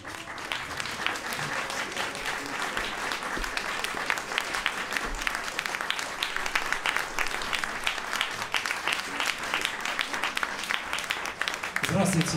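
A concert hall audience gives a dense, steady round of applause for a performance honouring a composer's 100th anniversary, with many hands clapping close and loud throughout. A voice joins briefly at the very end.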